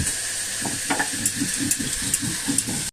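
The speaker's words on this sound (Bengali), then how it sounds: "আমি কাঁচা ঝাল আর শুকনো ঝাল একসাথে বেটে নিচ্ছি" Green and dried chillies ground together on a stone slab, producing an even, rhythmic series of low scraping strokes, about four per second, over a constant background hiss.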